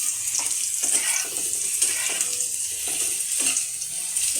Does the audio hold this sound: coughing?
no